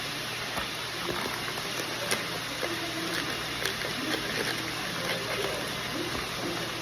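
Cooking oil heating in a pan on a home stove gives off a steady, close sizzling hiss that runs unbroken the whole time, with a few small pops and clicks on top.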